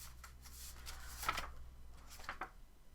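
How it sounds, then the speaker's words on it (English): Paper prompt cards are shuffled by hand, giving soft brushing and riffling swishes with a couple of slightly firmer flicks. The sound is faint and close, with no voice over it. "Shuffle my remaining prompt cards."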